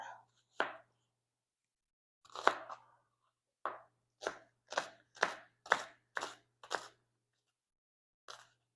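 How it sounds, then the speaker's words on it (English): A knife chops a shallot on a cutting board in about a dozen crisp strokes, a few spaced apart at first and then a quicker steady run, close up and without speech. "So I'm just going to chop this up lightly"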